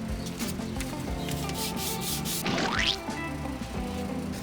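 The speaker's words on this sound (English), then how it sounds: "I've applied a lightweight auto body filler on here. Let's see how it sands out." A flare block sander scrubs back and forth over lightweight auto body filler on a curved fender flare, making a loud, close, steady rasping with a sharper scrape near the end and no talking.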